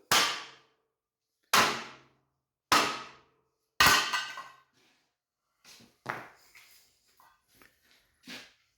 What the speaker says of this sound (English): Get a bigger hammer.